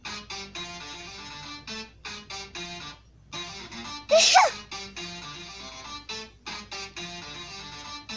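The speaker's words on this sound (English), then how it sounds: "I gotta make myself sneeze." A person lets out a single sharp, explosive sneeze midway through, standing out briefly over steady background music with no talking.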